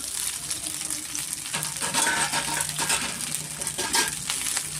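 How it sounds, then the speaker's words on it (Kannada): Rice tipped into frying garlic in a pan, then stirred, giving a loud bright sizzle with scraping spoon strokes and small clattering grains over the steady hiss. "ಇವಾಗ ಇದಕ್ಕೆ ನಾನು ರೈಸ್ ಸೇರಿಸ್ತಾ ಇದ್ದೀನಿ"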